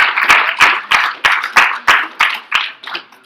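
Conference audience clapping in welcome for a PhD student speaker at a wireless security event: about ten distinct, fairly sparse claps in a steady rhythm, close and clear, fading slightly toward the end with no talk.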